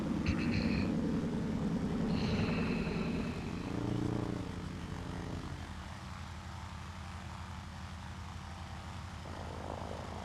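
Beechcraft D18 Volpar aircraft engines during taxi on a runway in Guam, a steady loud propeller drone with tonal hum that dips briefly and resumes, continuous throughout with no talking.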